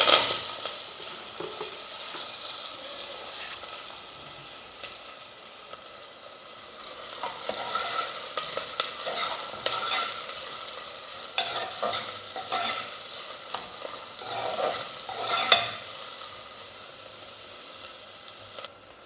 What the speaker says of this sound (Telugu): సేమ్ అదే ఆయిల్లోకి నేను 2 మీడియం సైజు ఆనియన్స్ అనేది కట్ చేసుకున్నాను. అవి అలాగే కరివేపాకు కూడా వేసుకుందాం.